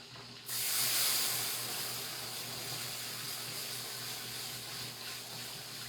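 Evaporated milk and water pour steadily into a pot in a home kitchen, a continuous close hissing, splashing flow that starts abruptly and runs unbroken with no talking.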